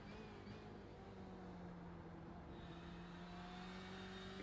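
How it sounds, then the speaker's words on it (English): Steady engine drone from a turbocharged 4-liter V8 race car in a sim racing game at Sebring, a sustained tone rising slightly in pitch as it revs, fairly faint, with no voices. "turbocharged 4-liter V8 in these cars"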